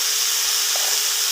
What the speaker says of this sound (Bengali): নেড়ে নেবো, একটু ভাজা ভাজা করে নেব।